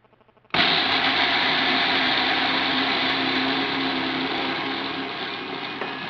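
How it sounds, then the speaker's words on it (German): An electric blender switches on abruptly and runs at a steady, loud whir, its motor roar holding constant with a slight easing toward the end. "ich schalte einfach mal den Mixer ein."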